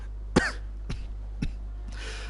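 A single sharp cough followed by a couple of smaller throat-clearing coughs and a breathy exhale, close to the listener.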